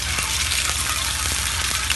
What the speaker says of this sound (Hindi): तो मैंने थोड़ा सा सिरका और नमक डाल के अभी अंडे में फ्राई कर रही हूँ